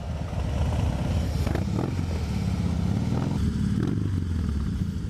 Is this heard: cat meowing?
no